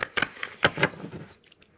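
A deck of playing cards gets ruffle shuffled, giving a few short, crisp fluttering bursts of card edges snapping together, close and fairly quiet, then trailing off.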